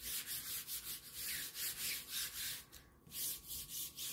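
A chalk transfer is rubbed down onto a decorative sign in quick, rhythmic back-and-forth strokes, a soft, close scraping that pulses steadily with no talking.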